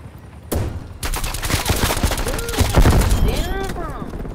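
Gunfire in Call of Duty: Black Ops Cold War, loud rapid bursts of automatic shots after an abrupt start, dense and continuous with whistling ricochet tones and voices under the shooting.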